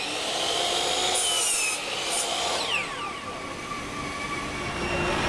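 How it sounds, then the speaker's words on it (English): A miter saw cutting through a wooden board, a loud, sustained whining rasp as the blade bites and grinds through the wood, close up with no voices. "when I'm going to go cut on the miter saw"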